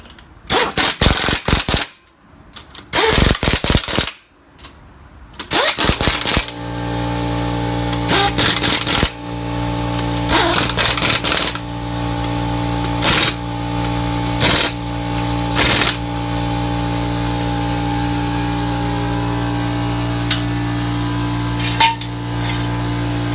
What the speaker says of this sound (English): hit it with the impact gun, and then torque it again